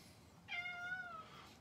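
A cat lets out a single drawn-out meow in a quiet indoor room, fairly soft and close.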